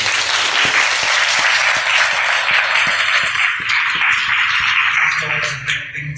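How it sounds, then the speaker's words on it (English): Audience applause for speakers at a campus event, steady and full, a crowd clapping for several seconds before it thins out at the end. "Let's give our speakers a round of applause."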